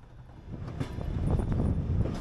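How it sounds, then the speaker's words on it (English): A train on an electrified former Soviet railway line pulling into a station platform, a low rumbling roll that builds steadily and grows louder, with faint squeaks on top. "We then wait for the train from Orsogetti to arrive into the platform."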